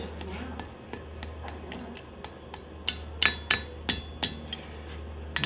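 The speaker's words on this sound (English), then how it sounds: "come back to the anvil and we'll bend everything in the opposite direction" Blacksmith striking hot iron on an anvil while bending a forged leaf, a dozen or so sharp ringing hammer blows at an irregular, steady pace over a low background hum, growing slightly louder toward the end.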